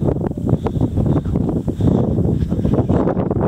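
Gusty wind roars across an exposed slope while hiking West Spanish Peak, buffeting the microphone steadily throughout with rumbling, uneven bursts.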